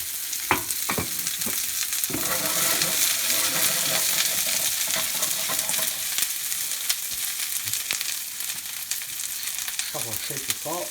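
Cauliflower frying in olive oil in a hot pan, a steady loud sizzle with occasional scrapes and stirring clatter, no voices.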